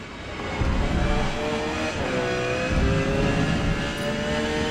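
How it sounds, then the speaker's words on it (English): A Porsche 911 in Forza Motorsport pushes wide under heavy understeer. A loud, sustained engine drone sits under a wavering tyre scrub through the corner, with a steady rolling rumble and no talking. "You can tell by the tortured tyres that the car, by default, exhibits an extreme understeer tendency, as I'm having to push in with the wheel and scrub the front tyres"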